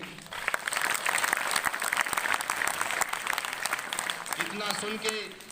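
Audience applause at a Constitution Day event in India, dense continuous clapping from a crowd, with a voice breaking in near the end as it fades.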